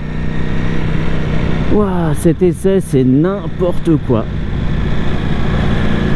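Ducati SF V4S 2025 motorcycle on a ride, a loud continuous engine drone with steady wind rush, while a rider talks over it in the middle.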